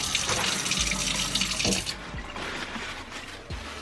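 Tap water runs steadily into a sink during cleaning with shaving cream, a continuous close splash that softens partway through, with a few light knocks.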